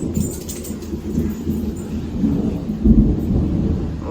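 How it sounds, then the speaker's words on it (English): Thunder rolls through a rainy afternoon, a loud, deep rumble that swells and fades with a heavier crack near the end, over a steady hiss of rain. "The thunder is a little jarring."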